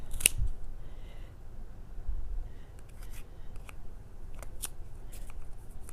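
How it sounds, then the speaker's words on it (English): Scissors snip through yarn wound on a Boye pom pom maker, a string of quiet, close cutting clicks and rustles at an uneven pace. "And turn to this side so I can cut it."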